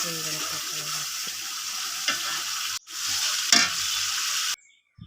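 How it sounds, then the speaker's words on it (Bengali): Masala spice paste with tomato frying and being stirred in hot oil for a pabda fish curry, a steady close sizzle with scraping spoon strokes, cut short near the end. "একটু মশলার মধ্যে কষিয়ে নিলাম।"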